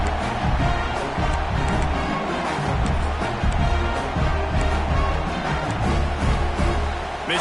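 A football stadium crowd in CFB 26 gives a steady, broad roar with scattered shouts and cheers, filling the space continuously at moderate loudness without distinct talk.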